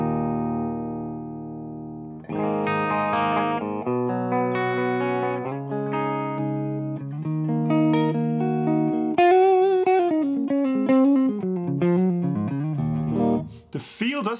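Distorted electric guitar through a simulated Mesa Boogie Triple Crown amp set to 100 watts, loud sustained chords and riffs ringing with heavy saturation and a bending lead line near the end, played alone and close.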